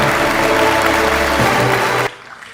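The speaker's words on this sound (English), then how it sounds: "Ladies and gentlemen, let the applause continue." Sustained, dense applause from an awards ceremony audience rolls on steadily, then drops off sharply near the end, leaving near silence.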